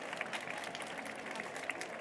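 A small audience at a departmental reading contest final gives faint, thin applause for a finalist, with scattered claps over a low room murmur.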